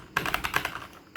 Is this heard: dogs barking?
no